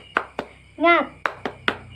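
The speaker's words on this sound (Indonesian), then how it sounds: "kita coba tepuk semangat ya" Elementary schoolchildren in a third-grade class do a rhythmic spirit cheer clap, sharp claps in a patterned beat broken by a short chanted shout from the group.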